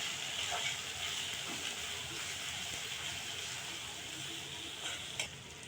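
Salt, ground coriander and turmeric fry in a pan, sending up a steady sizzle broken by stirring scrapes and one sharp knock near the end.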